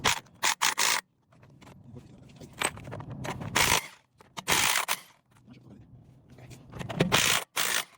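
Lug nuts being worked loose from a car wheel during a tire repair: several bursts of metallic ratcheting and scraping, close and fairly loud, separated by short pauses, with faint background noise between them.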